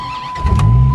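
A 2003 Dodge Viper SRT-10 engine starts with the key: a brief, quiet cranking leads into a sudden, loud low catch and a deep, rumbling run, heard close.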